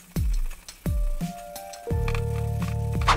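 A sponge scrubs brass with white cleaning stone paste in short, sharp squishing strokes that come close and fairly loud. Several separate rubs and taps are followed by a busier stretch of friction with faint ringing tones.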